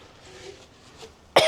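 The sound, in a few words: cough caused by black pepper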